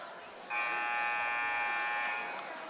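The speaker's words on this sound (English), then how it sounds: "Buzzer sounds to take us back into action." A single long electronic buzzer blares for about two seconds over the murmur of a crowded gym at a high school varsity boys basketball game, steady and harsh in tone.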